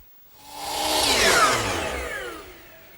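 A power saw cuts through a wooden mirror frame segment in one continuous pass lasting a few seconds, swelling to a loud whine midway and then fading as the blade finishes the cut.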